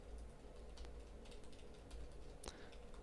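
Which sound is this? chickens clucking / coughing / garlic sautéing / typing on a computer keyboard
typing on a computer keyboard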